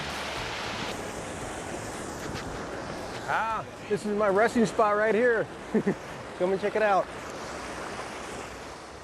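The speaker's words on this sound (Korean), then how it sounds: "돌집에서 멀지 않은 곳에 계곡이 있네요. 와, 물소리만 들어도" Mountain valley stream near a small stone house at high elevation, its water rushing in a steady broad hiss throughout while someone talks over it.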